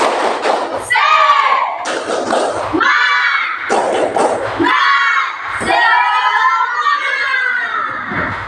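A class of schoolchildren performs the tepuk semangat clapping chant, loud group shouting in rhythmic bursts broken by sharp clap thumps, close and crowded, with a few brief pauses between phrases.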